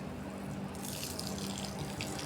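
Water runs from a tap into a container being filled for birds to drink, a short, steady gushing splash heard close up with no talking.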